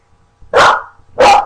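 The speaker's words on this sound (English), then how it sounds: "sorry, my dog's barking. Mailman just came." A pet dog barks at the mail carrier: two loud, close woofs about half a second apart, each sharp and full, with quiet room tone between.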